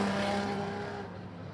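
A modified production race car with mechanical problems crosses the finish line at Charlton Raceway, a loud close engine roar that fades over a second and a half.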